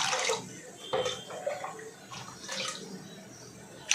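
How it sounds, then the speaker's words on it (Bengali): Water poured generously into a cooking pot on the stove, a steady close splashing and gushing stream that is moderately quiet, with faint background sounds. "বেশি করে জল দিয়ে দিচ্ছি"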